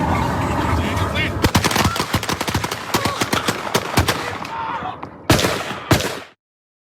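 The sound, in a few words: gunfire, many gunshots fired in rapid succession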